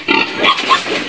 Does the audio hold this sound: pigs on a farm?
yes